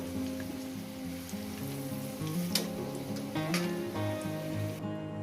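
Whole spices and bay leaf sizzle steadily in hot oil in a pan, with a spatula scraping and stirring now and then; the frying is close and continuous, with no voices.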